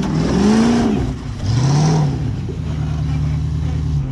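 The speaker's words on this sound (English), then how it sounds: "Throttle kicks in here." Off-road truck engine, a Bronco or Jeep at a wheeling competition, revs hard under throttle in rising and falling surges, loud and close, with a steady engine drone continuing underneath and voices talking over it.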